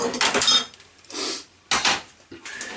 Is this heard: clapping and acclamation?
no